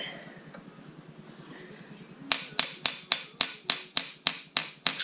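Metal hammer striking a Yamaha Timberwolf front wheel while its bearing is being replaced: about ten sharp, evenly spaced blows, loud and close, starting after a couple of seconds of quiet shop background.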